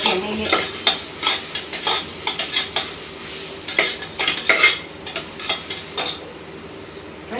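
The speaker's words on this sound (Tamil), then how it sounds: "ஃப்ரெஷ்ஷாக அரைச்சது இது விழுது ஆட் பண்ணி நல்லா வந்து வதக்கி விட்டுக்கலாம்" Freshly ground ginger garlic paste sautéing in hot oil, with a crackling sizzle and bursts of spoon-against-pan scraping and clatter in an uneven rhythm, close and fairly loud.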